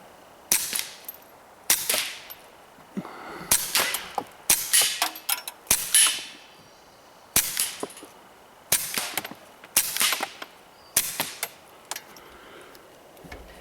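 A suppressed Walther PPQ .22LR pistol fires about a dozen shots in irregular pairs and singles, each a sharp muted crack with a short tail, fairly close and without talk.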